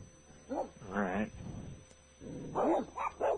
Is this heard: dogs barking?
yes